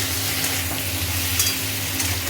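Tomato and ginger paste sautéing for chickpea ghugni: a steady, close sizzle with soft stirring scrapes throughout and no talking.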